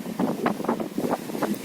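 Strong wind over the open sea buffets the microphone in steady gusts, a rough low rumble with pulsing surges, moderately loud, and no voices come through.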